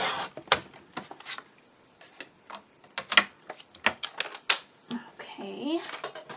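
Paper file folder being cut for a mini photo album, heard as a quick run of sharp, close snips and crisp ticks, mixed with papery rustling and handling toward the end.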